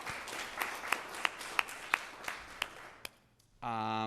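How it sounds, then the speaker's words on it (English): Small audience at a town council spring forum gives brief, scattered clapping with a few sharp individual claps, dying out after about three seconds before a voice begins. "Big little round of applause, please."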